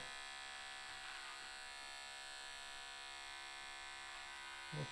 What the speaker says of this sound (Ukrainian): мені треба трошки більше повертати писок і працювати ротатором